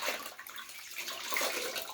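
Steady rush of running water from a tap while a face is rinsed during a shave with a Shavette, close and continuous with no talk.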